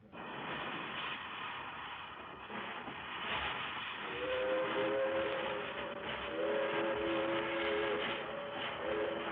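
A steam train at a railroad station rumbles with hissing steam throughout, and from midway a sustained multi-tone whistle sounds in two long blasts over the steady noise.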